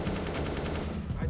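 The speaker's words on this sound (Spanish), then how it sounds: "Roca enseña un wallbang muy loco en la zona de apartamentos" Rapid gunfire from a wallbang shot fired through a wall in the video game CS:GO: a dense, steady burst of repeated shots throughout, loud and close, with no speech.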